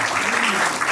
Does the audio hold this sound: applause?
yes